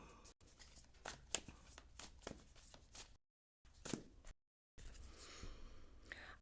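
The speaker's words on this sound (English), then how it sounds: "I shuffled" Soft riffling and shuffling of tarot cards in short bursts, with papery flicks and a couple of brief silent gaps, close and fairly quiet.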